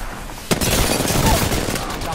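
Gunfire in Apex Legends, a sharp shot followed by a sustained, loud rattle of rapid automatic fire up close.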